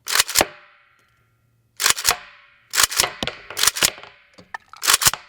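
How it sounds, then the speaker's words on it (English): Rounds are hand cycled through the action of an AK rifle, giving loud, sharp metallic clacks in close pairs and clusters separated by short pauses, recorded up close. "we're going to take 5 rounds and hand cycle them through this gun"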